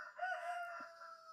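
A rooster crows once in a single drawn-out call, fairly faint and distant, against otherwise quiet surroundings.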